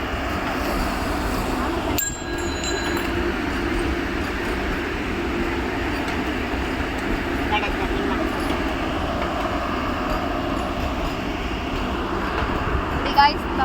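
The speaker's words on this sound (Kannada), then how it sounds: "ಒಂದೇ ಭಾರತ್ ಟ್ರೈನ್ ಇಸ್ ಕಮಿಂಗ್" A Vande Bharat train passes near Rajanagunte, a steady loud rumble of rail noise holding for the whole stretch, with a brief high squeal early on and people talking beneath it.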